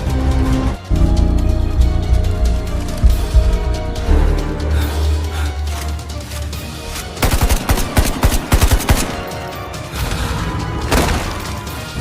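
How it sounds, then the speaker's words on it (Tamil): Gunfire against robots in a Tamil AI-generated short film, long loud bursts of rapid automatic shots with crashes and booms, dense and continuous, with no talk. "துப்பாக்கியால் சுடுகிறேன்"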